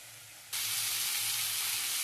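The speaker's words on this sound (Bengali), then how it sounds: "সিদ্ধ হয়ে গেছে, এবার আমি হালকা করে ভেজে নেব" Boiled barma shak greens hit a hot pan with a sudden loud sizzle that continues as a dense, steady hiss of frying.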